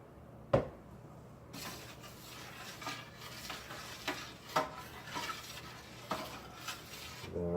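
A spoon stirring cream sauce in a pot on the stove for chicken marsala, with soft intermittent scrapes and clinks against the pot over a low simmer, close and fairly quiet.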